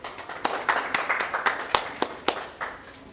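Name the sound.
audience applause welcoming a guest on stage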